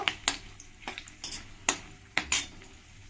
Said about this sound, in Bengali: এরপরে আমি দিয়ে দেব শুকনো লঙ্কা তেজপাতা কিছু গোটা মশলা দিয়ে এগুলোকে একটু ভালো করে আমি ভেজে নেব